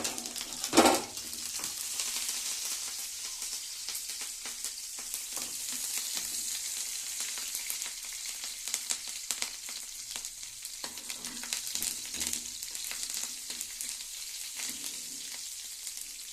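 Tempering spices crackle in hot oil in a pan, giving a steady close sizzle with scattered pops after a brief knock near the start.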